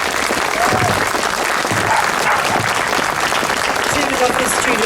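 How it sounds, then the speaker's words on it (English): An audience applauds the girls who spoke at a Unite for Ukraine concert, with steady, dense clapping throughout and voices mixed into the crowd noise. "Could we give a big clap to the girls who spoke so beautifully?"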